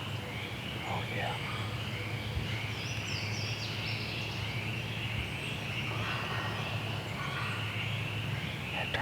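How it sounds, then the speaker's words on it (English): A wild turkey gobbles far off in Georgia hardwood woods during a spring hunt on public land. The calls are faint and distant beneath a constant drone of insects, with low voices nearby. "That turkey does gobble."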